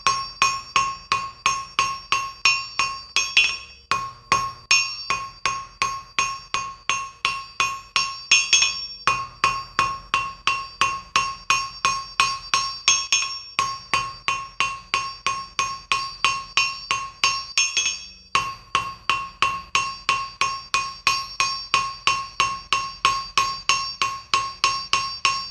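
Steel hammered hot over an anvil while an icicle-style Christmas ornament taper is drawn out, ringing metallic blows in a steady, fast rhythm with brief pauses, loud and close with no talking.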